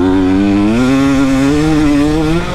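A two-stroke dirt bike engine revs loud and close, its raspy note rising and falling steadily with no pauses and no one talking.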